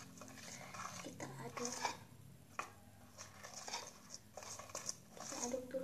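A homemade slime mixture of flour, rice flour and detergent gets stirred in a container, giving soft scraping, clicking and squishing sounds up close, with someone talking over the stirring.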